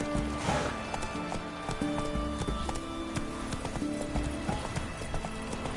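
Roach the horse trots in The Witcher 3, with rhythmic hoof clip-clops repeating steadily over a continuous game background, close and moderately loud.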